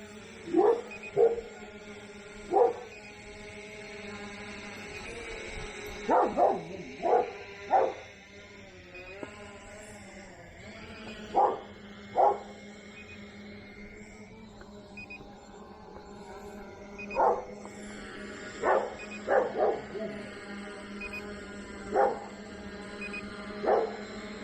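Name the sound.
dogs barking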